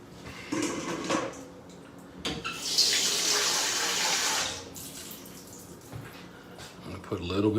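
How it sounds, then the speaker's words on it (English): Water runs from a tap into a pan to make a water bath for a cheesecake in a 9-inch springform pan, a loud rushing pour lasting a couple of seconds, with clinks and handling noises around it. "I'm going to put a little bit more water in here so we have some depth here going on."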